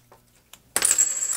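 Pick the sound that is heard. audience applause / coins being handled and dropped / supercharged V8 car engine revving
coins being handled and dropped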